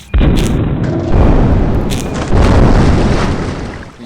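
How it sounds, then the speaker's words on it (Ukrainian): A rocket blows up in Kerbal Space Program, loud booming blasts that come in three successive roaring bursts, each with a rumbling tail, alone with no voices. "Місія провалена, ваша ракета вибухнула через надзвичайну силу."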